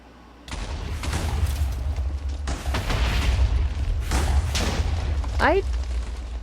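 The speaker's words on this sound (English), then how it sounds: "The explosions seemed about the same to me." Blocky explosions from the video game Minecraft go off in a rapid series of broad, heavy bursts, each followed by a rumbling tail, with a rising squeal of a creature sound near the end.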